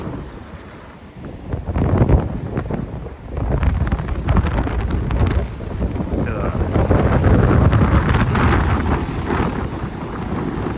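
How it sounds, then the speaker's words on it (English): Strong wind of about 100 mph roars and buffets the microphone while heavy waves crash and surge, loud and continuous. "it's 100 mile an hour wind. The waves are"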